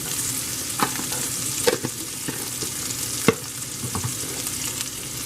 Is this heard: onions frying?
yes